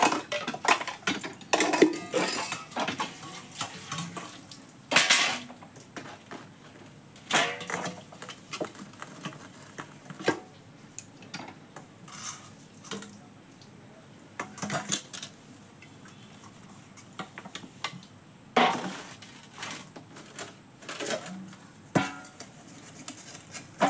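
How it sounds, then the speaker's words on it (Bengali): Metal dishes and pots are scrubbed at a tube well, giving off irregular clinks, scrapes and clatters at close range, with scattered louder knocks between quieter rubbing. "দেখো বাসন কীভাবে মাজছি।"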